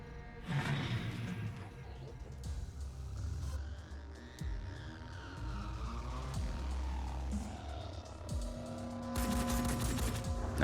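Bursts of gunfire in a Phoenix Point tactical firefight, likely including a shotgun: repeated loud shots and volleys with whooshing effects, a dense barrage near the start and a loud burst near the end over a low hum.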